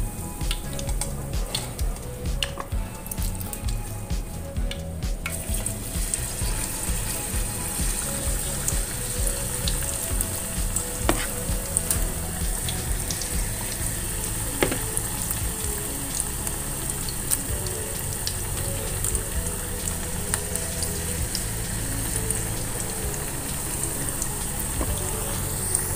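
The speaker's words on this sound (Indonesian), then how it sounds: "Lalu kita goreng kembali." Vegetable fritters (bakwan sayur) frying in hot oil, a steady dense sizzle running without pause for the whole stretch, close and fairly loud, with occasional small clinks.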